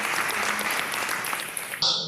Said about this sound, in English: we please give her a sounding round of applause